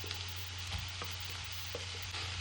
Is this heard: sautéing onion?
yes